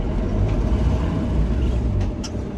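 A London taxi spinning its wheels in snow, giving a steady, loud low engine roar throughout with no one speaking.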